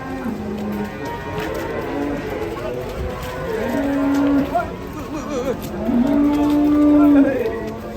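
Cattle moo repeatedly nearby, several long low calls rising and holding, with a voice and some background movement in between.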